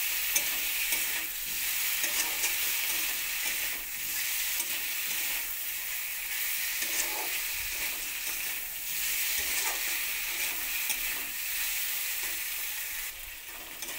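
Pumpkin and potato curry with chilli pickle being stir-fried in a pan, a constant close sizzle with repeated stirring scrapes throughout, no voices.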